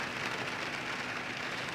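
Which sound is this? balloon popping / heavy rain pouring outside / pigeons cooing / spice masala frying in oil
heavy rain pouring outside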